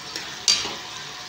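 Soft loita (Bombay duck) fish pieces being stirred in a hot pan of spice masala, a faint steady sizzle with one sharp scraping stir in the middle and a lighter touch just before it.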